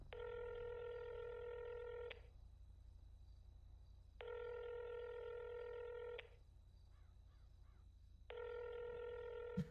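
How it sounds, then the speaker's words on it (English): A phone call rings out in a video game: three even, two-second bursts of a buzzy ringback tone separated by two-second gaps, clear and alone. "Okay, Bane is not answering my phone calls."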